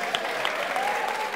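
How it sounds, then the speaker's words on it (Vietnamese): Audience applause on a Vietnamese TV show as guests exchange gifts on stage, a steady patter of clapping that holds evenly for the whole short stretch at moderate volume. "Vỗ tay."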